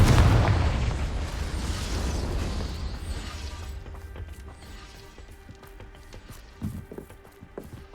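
A Confringo fire spell explodes in Hogwarts Legacy with a loud, broad blast at the start, then a long rumbling decay that fades into quieter ambient game sound with a few small knocks toward the end.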